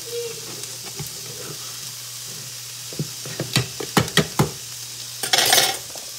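Buttered asparagus sizzles softly in a pan, then a burst of sharp metallic scrapes and taps marks it being flipped, followed by a louder hiss of frying.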